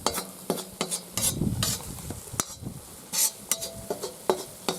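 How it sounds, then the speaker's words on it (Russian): Flour being stirred and toasted in a kazan (cauldron) during outdoor village cooking, with scraping strokes and a light sizzle repeating in uneven bursts, close and fairly clear, no talking. "Вот так муку перемешиваем."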